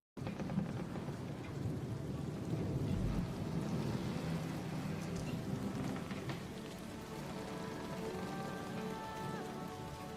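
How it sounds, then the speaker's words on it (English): Steady rain pattering on a surface, played from a video in the background, fills the whole stretch at an even, fairly loud level, with a faint low rumble early on and no talking. "Oh, the rain. I love the sound of the rain."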